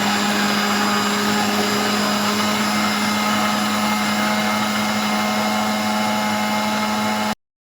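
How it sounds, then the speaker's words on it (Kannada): A mixer grinder whirs steadily while grinding a mango mixture with pepper powder, a loud continuous motor drone with a strong low hum that runs unbroken for about seven seconds, then cuts off abruptly. "ಇಷ್ಟು ಹಾಕಿ ಗ್ರೈಂಡ್ ಮಾಡ್ಕೊಳ್ಳುವ."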